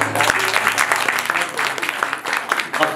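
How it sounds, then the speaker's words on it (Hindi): Audience clapping for a young man named Monu during a Sunderkand religious recitation gathering, a dense burst of hands that swells and dips, with voices mixed in over it. "तालियां होनी चाहिए मोनू के लिए जोरदार।"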